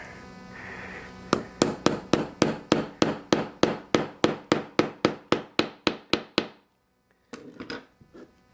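Heavy hammer tapping a part into place inside a power washer: about twenty sharp, evenly spaced strikes in a steady rhythm, close and loud, then a pause and a brief clatter of handling.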